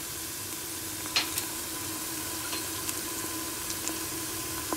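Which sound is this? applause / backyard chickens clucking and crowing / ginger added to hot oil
ginger added to hot oil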